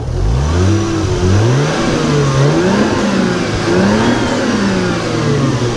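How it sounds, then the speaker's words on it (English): The 1JZ engine of a 1994 Toyota Mark II Tourer V (JZX90) revs up and down repeatedly, its pitch rising and falling smoothly, loud and close with no talking. "That's how smooth the engine is on this car"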